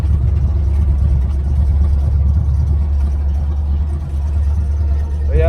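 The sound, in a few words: 1981 Camaro Z28 engine running on test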